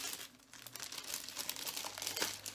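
Crinkly rustling of silver glitter ribbon being unwrapped and handled during a craft box unboxing, a close, steady crumpling and crackling texture with no talk.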